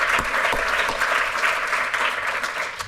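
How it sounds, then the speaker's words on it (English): A ceremony audience claps steadily and loudly at a community college excellence prize event, dense applause holding level for the whole stretch with no talk over it. "if you'd join me in a round of applause for them also"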